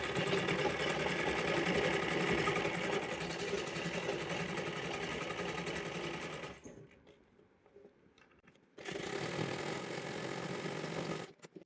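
A sewing machine runs steadily while topstitching a plain frock's bodice, a dense continuous whir for about six seconds, pausing briefly to near quiet, then resuming at full speed before stopping at the end.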